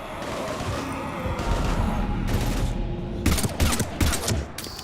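Mass Effect 3 combat gunfire against Husks, with dense rattling bursts and heavy booms that build into sharp volleys in the last seconds, loud and continuous.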